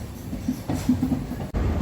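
Train at Ernakulam South railway station: a steady, close, broad rumble of rolling stock with a brief dip near the end, and no voices.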